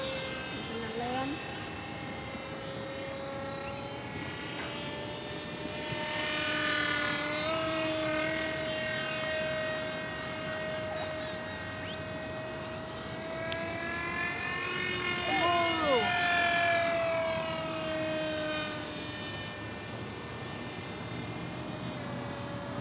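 A radio-controlled model bullet plane flies overhead outdoors, its small engine buzzing continuously with rising and falling pitch as it passes near and away, moderately loud throughout.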